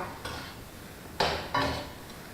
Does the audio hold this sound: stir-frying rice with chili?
yes